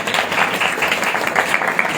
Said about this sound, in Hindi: आइए हम सब ताली बजा के सभी को